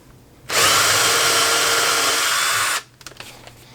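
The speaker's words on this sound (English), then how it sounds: "I'm going to pre-drill one more on the opposing side" A power drill whirs loudly at high speed for about two seconds, pre-drilling a screw hole in wood to mount a jeweler's bench pin, then stops, followed by a few light clicks and taps.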